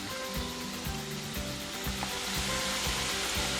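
Sweet somas dumplings for Diwali fry in hot oil over medium heat, a steady, close sizzle and bubbling that carries on evenly without a break.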